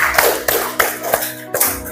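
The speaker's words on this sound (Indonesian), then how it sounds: "tepuk tangan dulu untuk semuanya." Students in a classroom clap together in a loud, close, rhythmic pattern of roughly six sharp beats over two seconds, with no talking.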